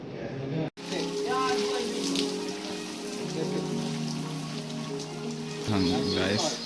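Water sprayed over a choreography shoot set to make artificial rain hisses steadily and densely throughout, mixed with loud music playing alongside.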